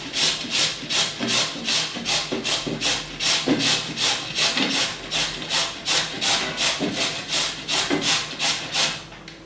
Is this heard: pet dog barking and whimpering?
no